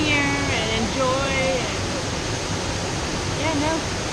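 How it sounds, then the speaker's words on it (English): Waterfall in Khao Lak, Thailand, a steady broadband rush of falling water heard nearby, with bird calls and brief voices over the roar. "oh, here's waterfall"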